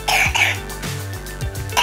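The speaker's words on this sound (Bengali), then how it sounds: "পরিমাণে কাশি হয়েছে আপনার," A person with a cold and fever coughs in several short, harsh bursts in under two seconds, close by and fairly loud, with a low hum underneath.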